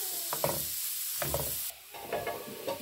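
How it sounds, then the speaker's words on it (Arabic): Chopped onion sizzles in hot oil with a steady close hiss, broken by a few scraping stirs of a spoon in the pan. "درنا الزيت غادي نخليو البصله طيح لينا شويه"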